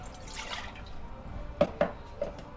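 Water poured from a cup into a cooking pot as the base for homemade chocolate syrup, heard close and quiet as a few soft splashes and drips, with no talking.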